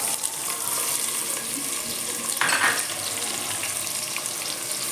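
Onion frying in hot oil with whole spices such as bay leaf, cinnamon, cardamom and cloves, a steady close sizzle and hiss with one brief louder burst of crackle.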